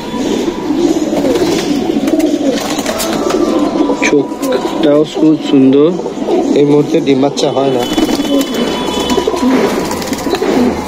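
Male Murshidabad pigeons coo in a pigeon loft, their low rolling calls repeating under a voice talking close by throughout.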